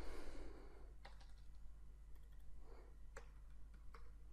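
Sparse, faint keystrokes on a computer keyboard, a few isolated clicks spaced out over a steady low hum, as code for a while loop is typed during a programming lesson.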